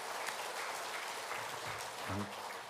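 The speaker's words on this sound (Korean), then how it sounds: "박수로 하나님 앞에 영광 올려드립니다." Congregation applauding during a church women's association general meeting, a continuous wash of many hands clapping at moderate distance, with a brief voice rising under it near the end.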